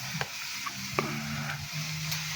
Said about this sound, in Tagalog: Tapos ilalagay ko na itong ating gata ng niyog.